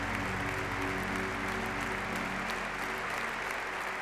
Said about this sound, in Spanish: 5 minutos de aplausos envuelven el histórico momento.